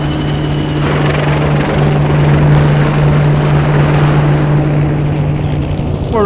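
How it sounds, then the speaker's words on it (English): A helicopter roars steadily overhead, a loud continuous rotor drone with a deep engine hum, no voices; planes and helicopters fill the sky. "The sky is full of planes and helicopters."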